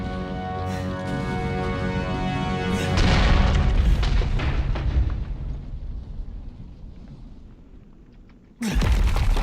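A heavy gun in Resident Evil 7 fires with a deep, booming blast that rolls on for several seconds before fading, then a second loud burst cuts in at the end.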